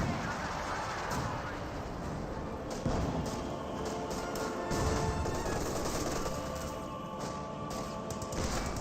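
Rifle gunfire and grenade blasts from a Company of Heroes 2 battle build into a dense, continuous wall of distant shots, bangs and crashes, with a few louder hits standing out.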